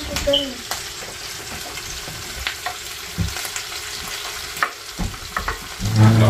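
Chiles fry in a pan with a steady close sizzle, broken by occasional stirring scrapes and clacks, and a louder burst near the end.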